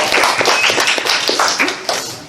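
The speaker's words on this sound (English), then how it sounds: "Another round of applause for TK" Audience applause for a comedian at a furry convention open mic, a dense burst of steady clapping from a small crowd, loud and close, tapering off toward the end.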